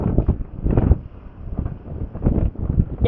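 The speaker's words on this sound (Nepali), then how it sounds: "क्या हावा लगाइरहेछ कि बाहिर" Wind rushes past a rider on a scooter through Bhaktapur, buffeting the microphone in uneven low gusts that swell and drop over a few seconds, with no talking.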